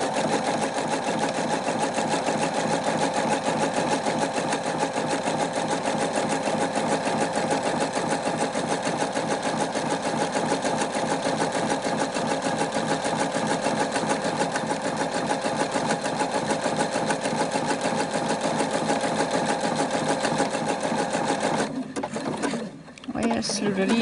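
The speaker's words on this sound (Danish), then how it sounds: "Og så syr vi nu baglæns op mod vores udgangspunkt." Home sewing machine running steadily in reverse, stitching a tight zigzag seam along a trouser leg, with a continuous close whir that stops abruptly near the end.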